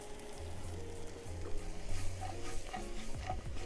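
Onions frying in a pan for a prawn linguine, a steady close sizzle with soft stirring and a few scrapes, heavy low hum of background music or noise underneath.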